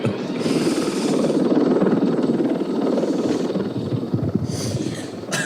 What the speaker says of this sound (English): Wait, helicopter's flying over.